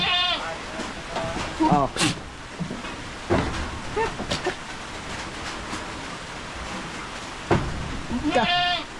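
Boer goats bleat loudly and repeatedly inside a hut, with loud calls near the start and end, and a person exclaims briefly.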